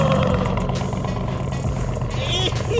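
Loud GMC truck with a brutal aftermarket exhaust rumbling and revving continuously at close range, a deep steady roar throughout while voices talk over it.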